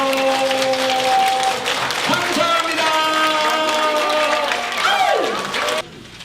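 An audience at a neighborhood safety council workshop applauds, the clapping carrying on for several seconds over lingering music tones, while a voice speaks briefly over it.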